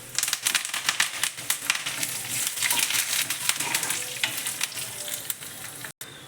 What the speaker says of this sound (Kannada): ಇದು ಕಡಲೆ ಬೀಜ ಫ್ರೈ ಆಗ್ತಾಯಿದೆ ಈಗ ಸ್ವಲ್ಪ ಸಾಸಿವೆ ಹಾಕೋತಾ ಇದ್ದೀನಿ ಮತ್ತು ಮೆಣಸಿನ್ಕಾಯಿ ಹಾಗೆ ಕರಿಬೇವಿನ ಸೊಪ್ಪು